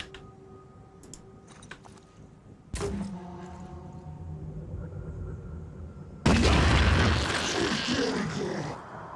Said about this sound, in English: We're going to release that guy and then we'll actually grenade them both